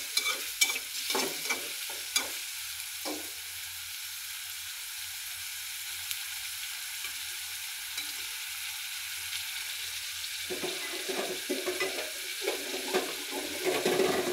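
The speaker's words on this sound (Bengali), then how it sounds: "পেঁয়াজগুলোকে একটু হালকা ভেজে নেব।" Onions fry lightly in a pan for an aar fish curry, a low, even sizzle running throughout, with clattering stirs at the start and again toward the end, no voices.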